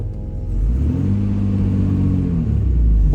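A restored classic MG's engine runs close by with a steady low rumble and harmonic drone that swells slightly as it revs, loud and without talk.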